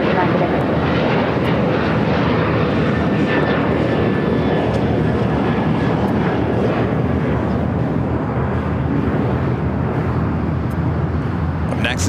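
United airliner bound for Tokyo Narita at Los Angeles airport, a loud sustained engine roar with a thin high whine, speech heard over it.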